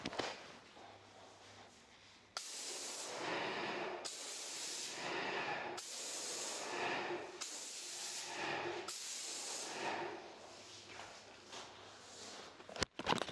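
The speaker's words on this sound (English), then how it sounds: "with a 514 FFLP spray tip, spraying at around 1800 PSI just with a standard trade emulsion." A Graco airless paint sprayer with a 514 FFLP tip sprays standard trade emulsion at around 1800 PSI, spitting at the ends of each stroke; close, loud hissing spray bursts repeat in roughly regular strokes after a quieter start.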